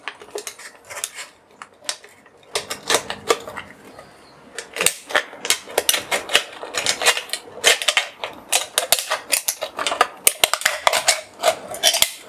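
A simple craft knife cuts through the thin metal of a beer can, making close, sharp clicking and scraping crackles in rapid irregular bursts that grow busier as the cut goes on.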